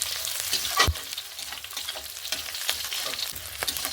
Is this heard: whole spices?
yes